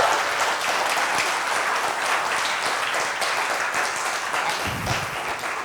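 At a national trainers and speakers conference, the audience gives a big round of applause, full and continuous clapping that fades slightly toward the end.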